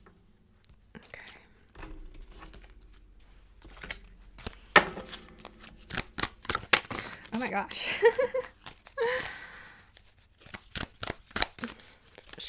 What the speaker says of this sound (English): Shuffling like a crazy person over here.